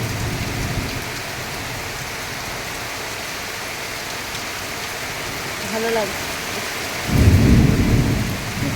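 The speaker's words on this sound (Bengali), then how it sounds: "টুকটাপ টুকটাপ টুকটাপ বৃষ্টি পড়ে" Steady rain falls on surfaces during a Baisakh storm, with low thunder rumbling near the end; a person speaks briefly over the downpour.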